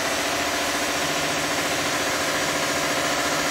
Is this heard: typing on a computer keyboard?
no